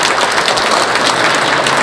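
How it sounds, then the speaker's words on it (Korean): A crowd at an outdoor Catholic Mass and protest rally in Andong claps loudly and continuously, a dense close wash of applause with no pauses. "이거 박수를 안 칠 수가 없다 진짜"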